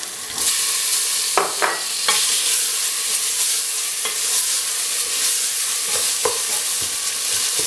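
A sharp, loud sizzle bursts up as tomatoes hit a hot pan, followed by steady frying crackle and a few stirring scrapes, with no talking.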